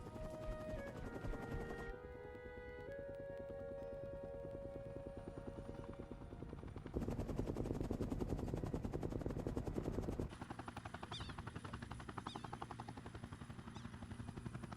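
Steady, loud helicopter rotor noise that shifts in character over time, a rapid thumping drone with mechanical whine, no talking.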